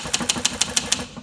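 Typing on a 1971 Sears Newport typewriter: six crisp, evenly spaced keystrokes snap in quick rhythm, close up and clear, with no voices.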